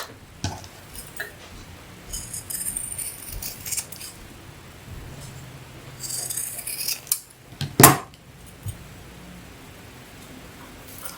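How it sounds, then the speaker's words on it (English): Scissors trimming the fabric corners of a sewn zip-around clutch, a handful of close, crisp snips spread across a quiet moment, one sharper cut standing out near the end, no speech. "I do like to trim away the corners on these down to 1/4 inch."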